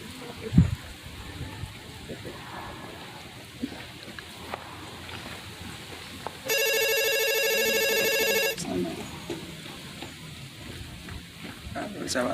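A telephone rings with a steady electronic tone lasting about two seconds, clear and fairly loud over a noisy room with scattered movement in a Haitian drama series; voices are heard around it.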